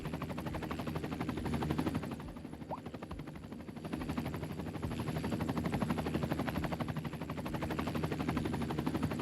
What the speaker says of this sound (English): We got all these helicopters going on over here.